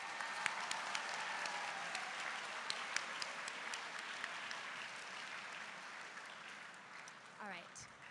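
An audience at a state conference general session gives a sustained round of applause, dense and steady, then thinning out toward the end as a voice begins to come in.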